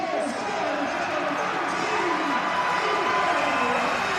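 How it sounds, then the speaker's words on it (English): A hockey crowd at the Canada West men's final, Mount Royal against Saskatchewan, roars after a goal, a broad sustained wash of cheering heard under a commentator's voice. "And to the roar of the crowd"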